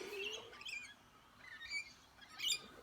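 Birds chirp and squawk at a Sunday morning backyard feeding of parrots, lorikeets and ducks, a few short high calls heard faintly in a quiet setting.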